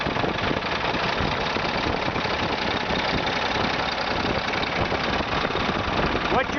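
A diesel mixer truck engine idles loudly up close, a steady rumbling chug that continues without pause.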